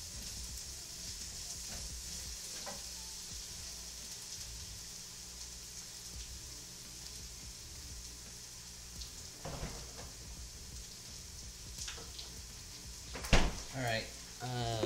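Shrimp frying on a stovetop, a steady close hiss and crackle that runs throughout, with a few clinks and stirring bumps near the end.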